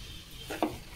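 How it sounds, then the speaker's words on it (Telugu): Semolina (rava) roasts in ghee in a pan, with a soft sizzle and two or three quick, close scraping stirs. "ఆ నేతిలోనేనండి రవ్వ వేయించేస్తే"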